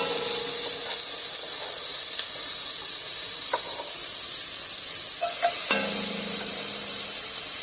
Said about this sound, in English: Get my onion in. And I chopped up some onion, one onion real fine